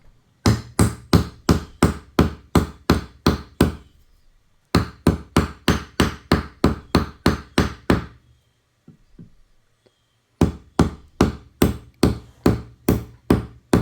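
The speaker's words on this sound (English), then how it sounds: "So I'm going to grab a hammer and continue to drive it home, because I want that as tight as I can." A hammer driving a wedge into a hatchet handle: three loud, close bursts of rapid, evenly spaced metallic strikes, about eight to ten blows each, separated by short pauses with faint handling sounds.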